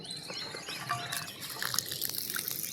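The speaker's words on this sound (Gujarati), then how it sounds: "તો આવી ગયું આપણે પાણી ટોટીએ" Water runs from a tap in a steady soft trickle with a few splashy bursts, fairly faint and close, with no one speaking over it.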